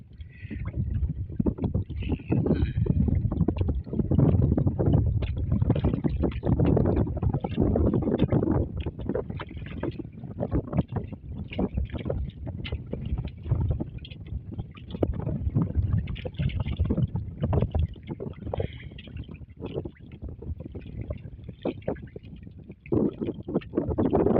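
Wind gusting over open sea around a small wooden fishing boat, a steady roaring rush with water slapping against the hull, loud and continuous throughout.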